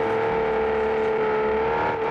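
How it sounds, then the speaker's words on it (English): A V12 car engine in the BeamNG driving game gives a steady, buzzy drone held at an even pitch for a couple of seconds, with no one speaking over it. "a V12 sounds like garbage"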